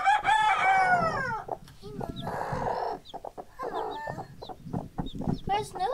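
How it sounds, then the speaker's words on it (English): A mother hen with chicks clucks and squawks agitatedly up close, with a drawn-out crowing-like call at the start and rapid clucks following. "put Goose back under his mama so she's not freaking out"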